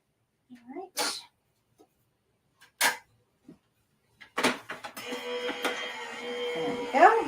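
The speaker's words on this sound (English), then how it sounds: "I'm going to take it over to the cut machine, the cut and emboss machine that I use" A cut and emboss machine processes a card: a few sharp clicks and handling knocks, then a steady mechanical grinding whir with a wavering tone that grows louder toward the end.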